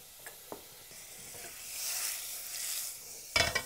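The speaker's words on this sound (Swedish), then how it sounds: "Det gäller att den är riktigt varm, den här oljan. Så ska jag ha en liten smörklick i." Butter dropped into very hot oil in a pan sizzles with a broad hiss that swells and holds, with a few soft clicks before it and a sharp, loud spattering crackle near the end.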